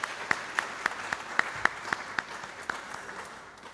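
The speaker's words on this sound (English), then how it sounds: "Can you guys give them a round of applause for that?" Sparse applause from a small audience at an African Bible university gathering: about a dozen distinct, separate claps spaced at a steady rhythm, moderately near, then thinning into quiet with no talk.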